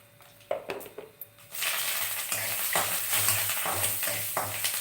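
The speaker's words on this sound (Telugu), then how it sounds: "కొంచెం వేగింది అనిపించినప్పుడు మనం ఇందులో కరివేపాకు వేస్తాం" Curry leaves dropped into hot oil for a bean chutney burst into a loud, steady sizzle after a few quiet clinks and stirring taps, frying continuously with occasional scrapes in the pan.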